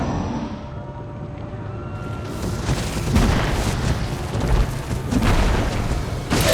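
A heavy X4 explosive charge detonates in the XCOM 2: War of the Chosen video game, a loud, sustained booming blast with rumbling debris that swells after a quieter lead-in and continues across several seconds.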